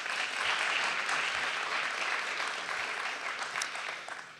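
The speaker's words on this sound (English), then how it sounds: "So another round of applause for our speakers" Audience at a community meeting applauding speakers, a fairly quiet, even bed of many hands clapping that holds steady before tapering off at the end.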